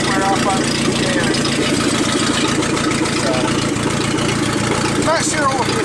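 A 1988 Dodge Dakota with a 2.2 liter engine idles through a straight pipe with its muffler hanging loose, a loud, rough, steady burble filling the whole stretch, with a brief squeak near the end.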